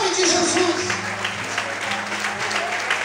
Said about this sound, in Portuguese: aplauda a Deus essa noite bem forte